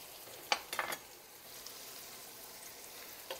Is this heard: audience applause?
no